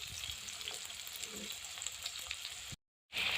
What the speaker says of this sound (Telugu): ఉల్లిపాయలు వేసుకొని దీంట్లో కొంచెం ఎక్కువ వేసుకుందాం